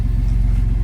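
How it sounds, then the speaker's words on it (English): Chevrolet S10 pickup truck engine idling nearby in a steady low rumble with an even pulsing beat, brief and alone. "simply turn the truck on, let it run"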